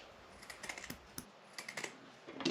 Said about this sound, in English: So I drew a circle on the burlap and we're going to cut it out.